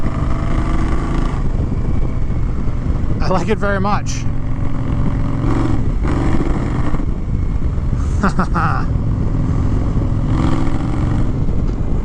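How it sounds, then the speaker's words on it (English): A 2021 Indian Scout Bobber motorcycle climbs a hill, its gnarly exhaust note droning loud and continuous. Someone talks over the engine, and a few sharp mechanical squeals cut through briefly. "pretty gnarly exhaust note"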